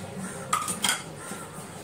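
Chopped onion, tomato and coriander are mixed in a dish, giving two quick close metallic clinks of a spoon against the dish over a quiet background.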